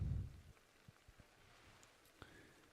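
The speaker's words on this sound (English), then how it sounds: "rainy weather" Rainy weather in the video game Pokemon Legends Arceus: faint, quiet patter with scattered drips, opening with a brief low rumble.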